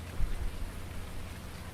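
Rain falls steadily outside as a soft, even hiss, with a couple of faint low thumps near the start and no voices.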